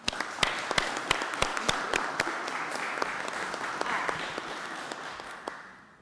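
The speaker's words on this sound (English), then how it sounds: "Let's give her a round of applause as she makes her remarks." A round of audience applause at a community discussion event, with sharp individual claps standing out over a steady bed of clapping that carries on, then fades near the end.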